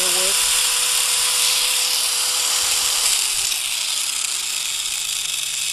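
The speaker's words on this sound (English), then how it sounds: "one of my favorite tools is hand grinder, and this uses a lot of power" A hand grinder powered by a DIY portable solar generator runs with a loud, continuous high whine, its pitch sagging slightly as it spins down near the end.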